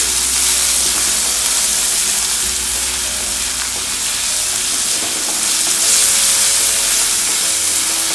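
Onions sizzle on a hot tawa for mixed vegetable bhaji, a loud, dense and continuous frying hiss that stays close and even from start to end.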